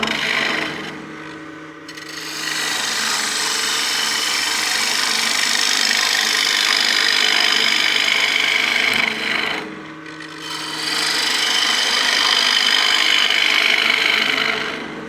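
A woodturning gouge rasps steadily against wood spinning on a lathe while roughing out a utility box, a continuous hissing scrape that briefly drops away twice and then resumes.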